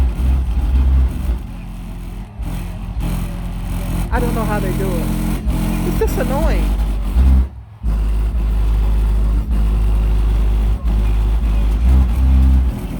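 Heavy bass from a loud car stereo nearby booms steadily and vibrates the whole car, a constant low throb under someone talking close by.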